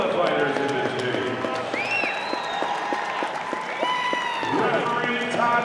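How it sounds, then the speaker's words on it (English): Arena crowd at a BTC 4 combat sports fight night applauding and cheering both fighters after a third-round TKO stoppage, steady loud roar with an announcer's voice and other voices running over it. "let's have a big round of applause for both of the fighters in this game."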